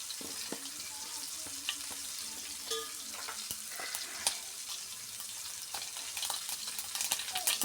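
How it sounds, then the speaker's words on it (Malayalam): Mustard seeds in hot oil in a pan give a quiet, continuous sizzle broken by scattered sharp pops and clicks, with a few utensil knocks and no talking. "കടു ഇട്ടു"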